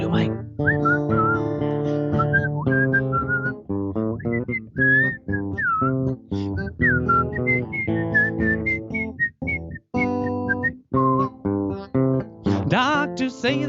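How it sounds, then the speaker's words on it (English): A person whistles a lilting melody close into a microphone at a songwriter performance, with steady, clear tones broken by short breaths and pauses. "Hard to whistle into mic."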